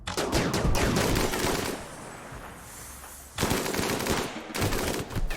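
Bursts of gunfire from a colony firefight in the video game RimWorld: dense automatic volleys for about two seconds, a brief lull, then another loud sustained burst of rapid shots with no talking.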